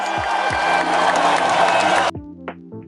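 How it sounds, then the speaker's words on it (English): Crowd applause with cheering and whoops rings out loudly for about two seconds, then stops abruptly, leaving a few faint sounds afterward. "Give him a round of applause."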